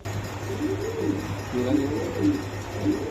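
Spanish pouter pigeons coo in soft, repeated throaty rolls, several calls in a row, close by at a pigeon sale, with faint background murmur.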